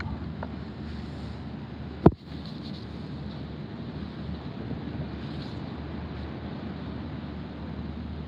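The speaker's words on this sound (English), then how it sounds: "I'm up on the sun deck because it's too cold with the wind." Wind blows across an outdoor sun deck as a steady broadband rush with no pauses, and a single sharp knock cuts through it near the middle.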